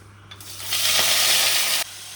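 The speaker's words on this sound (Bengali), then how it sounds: "এবার আমি শাকগুলো দিয়ে দেবো।" Leafy greens dropped into hot oil with fried dry red chillies and black cumin in a Bengali shak chorchori. A sudden loud sizzle swells and holds steadily for about a second, then cuts off sharply to a quieter background.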